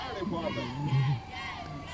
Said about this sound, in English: Listen to all that cheering.